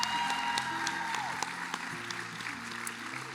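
An audience at an ambassador coronation applauds the candidates with sustained, dense clapping, steady and moderately loud, with a bright ringing tone sounding briefly over it.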